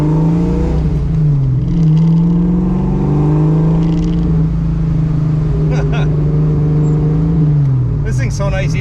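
A supercharged 1986 Ford Mustang GT cruises in traffic, its engine a loud, close, steady drone with a supercharger whine that rises and falls gently as it shifts, while people talk over it inside the car.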